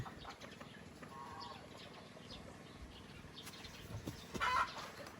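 Chickens cluck and stir around feed on a small vegetable farm, soft overlapping calls over a low outdoor bed, with a brief rustling burst like wing flaps near the end.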